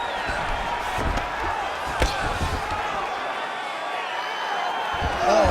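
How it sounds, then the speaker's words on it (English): Crowd noise in the EA Sports UFC 5 arena during a grappling exchange, a steady roar filling the whole stretch with a few sharp thumps, swelling louder near the end as the fighters get back to their feet. "huge pop from the crowd as the fighters get back up to their feet"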